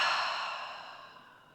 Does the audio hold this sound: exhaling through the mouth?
yes